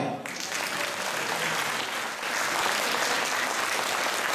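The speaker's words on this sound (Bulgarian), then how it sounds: "Аплодисменти за Николай!" Audience at a transport company's 20th anniversary celebration breaks into sustained applause for a family member taking the stage, a dense roomful of clapping that swells louder halfway through.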